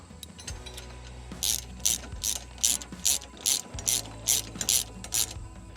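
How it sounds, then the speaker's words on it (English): A 13mm socket and ratchet tightens hitch-mount spreader hardware, giving a close, crisp run of about a dozen evenly spaced ratcheting clicks after a brief lead-in of quieter handling. "tighten all your hardware up with a 13mm socket and ratchet or 13mm wrench"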